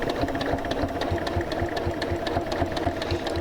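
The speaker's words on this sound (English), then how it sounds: "That's where I'm going to go ahead and start my stitching." A sewing machine runs steadily, stitching bias binding onto a quilt with a fast, even mechanical chatter that stays close and continuous throughout.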